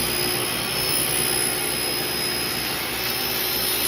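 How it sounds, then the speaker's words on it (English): Table saw slicing through a homemade wooden sled, a loud, steady high-pitched whine and roar that holds constant throughout with no voices. "now I'm going to go ahead and cut through it"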